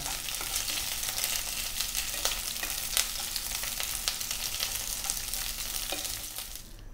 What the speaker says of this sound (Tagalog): mag start na po tayong magprito ng ating tuna